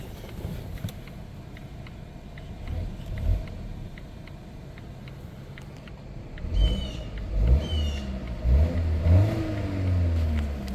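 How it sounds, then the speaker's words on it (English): A 2017 Volvo S90 T6 Inscription four-cylinder engine idles steadily, then revs up a couple of times in close, loud rising-and-falling bursts against a soft limiter before settling back. "Give it a couple revs."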